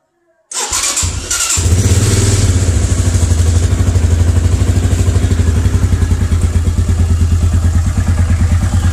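A 200cc chopper motorcycle engine starts up with a clattering crank, then idles loudly nearby with a steady, rhythmic thumping pulse.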